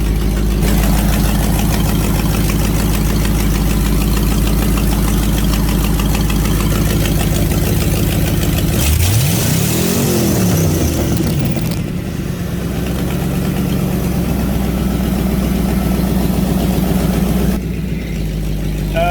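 A car engine fitted with new eBay injectors runs loud and steady at idle nearby, with one brief rev that rises and falls in pitch partway through before it settles back to a rough idle.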